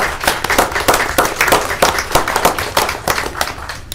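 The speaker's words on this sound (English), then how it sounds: "I just want you all to give them a big round of applause for all they do." A crowd at a city council meeting applauds with steady clapping throughout, brisk and fairly loud, the individual claps blending into sustained applause.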